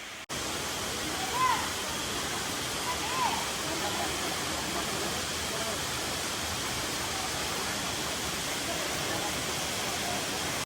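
A roaring waterfall near tribal hill country, a dense continuous rush of falling water heard close and loud throughout, with faint indistinct voices briefly in the background.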